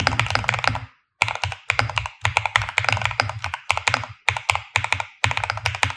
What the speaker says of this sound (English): Now let's hear that typing sound.